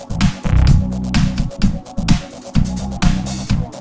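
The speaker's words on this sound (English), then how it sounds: "Next up is the octave effect." A punchy bass line with a bright octave-up doubling from an Unfiltered Audio Bass-Mint plugin layered on top, playing in a rhythmic pattern with sharp hits throughout.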